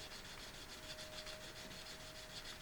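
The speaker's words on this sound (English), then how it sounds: "by polishing this off with a sharpener, you inherently are sharpening this edge" A Trend corner chisel being rubbed back and forth on a sharpener, making a faint, quiet, rhythmic rasping with about a dozen even strokes.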